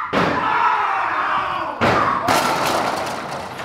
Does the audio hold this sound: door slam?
yes